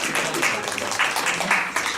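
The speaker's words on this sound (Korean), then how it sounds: "박수 한번 될것 같습니다" A small audience at a talk on YouTube creators gives a short burst of clapping, several hands patting unevenly and fairly close for about two seconds.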